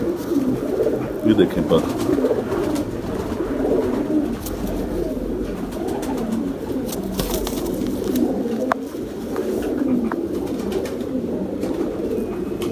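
Pigeons coo continuously and close by while pecking at feed, a steady low warble with occasional wing rustles, and someone talks briefly over them.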